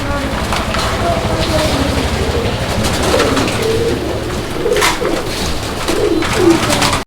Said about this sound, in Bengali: এটা হচ্ছে মন্ডিয়ান কবুতর একটা জোড়া অ্যান্ড এইটা হচ্ছে হোয়াইট মন্ডিয়ান